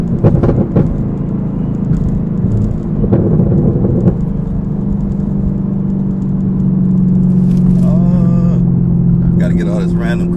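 A lowered Chevrolet Camaro ZL1 on Eibach springs drones steadily from inside the cabin as it downshifts, its engine note rising and swelling near the end, with a voice talking over it.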